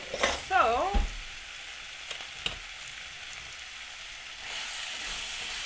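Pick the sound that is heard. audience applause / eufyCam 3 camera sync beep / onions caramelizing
onions caramelizing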